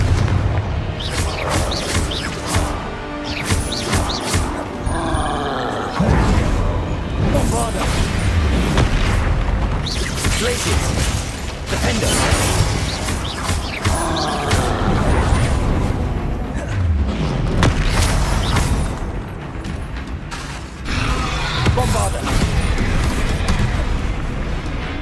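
Repeated booming fire-blast spell explosions from Confringo in Hogwarts Legacy, loud and heavy, erupting every few seconds over rumbling battle effects, with a voice shouting spell names between blasts.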